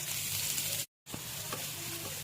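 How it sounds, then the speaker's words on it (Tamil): Steady, loud sizzling of onions sautéing in a hot pan, with a brief gap of silence and some faint stirring clinks. "இதில் வெங்காயம் போட்டு வதக்கிடலாம்."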